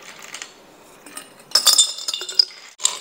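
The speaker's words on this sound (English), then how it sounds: "Okay, so we're gonna put our ice in here." Ice cubes clinking and clattering into a glass for southern sweet tea, a few sharp bright clinks in quick bursts, close and fairly loud after a quiet start.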